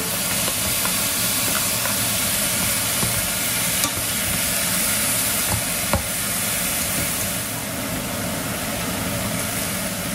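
Corn tipped into a cooking pan and stirred, a continuous loud sizzle and hiss with scattered scraping knocks from the utensil, no voices.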